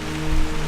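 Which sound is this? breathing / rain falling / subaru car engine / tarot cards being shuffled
rain falling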